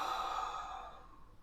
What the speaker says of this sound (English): Deep breathing, our action is this.